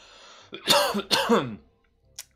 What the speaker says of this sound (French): Excusez-moi, la toux, c'est terrible.